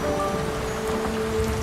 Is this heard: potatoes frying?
no